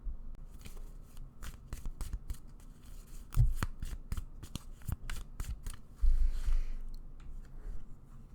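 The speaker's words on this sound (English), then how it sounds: "Let me grab some cards for you." A deck of tarot cards is shuffled by hand, giving quiet, close riffles and sharp flicking clicks in uneven bursts with short pauses between.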